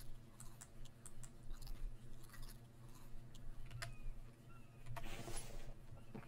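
A character in The Infected survival game eats food, giving soft repeated chewing and crunching over a low game ambience, faint and close.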